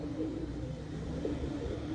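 Several breeder pigeons of different feather types softly cooing, a faint, continuous low murmur of overlapping coos with no voices over it.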